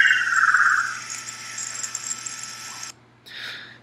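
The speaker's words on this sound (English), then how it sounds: "So, that was the PC1 pulsation." A sonified recording of a PC1 magnetic pulsation gives a buzzing, insect-like chirping drone that starts brighter and fades to a fainter hiss, then cuts out briefly before a short burst returns.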